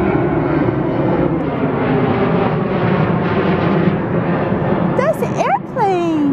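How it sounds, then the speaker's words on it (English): An airplane flies overhead with a loud, steady engine roar that fills the whole clip. Shrill voices and squeals break in near the end. "That's an airplane!"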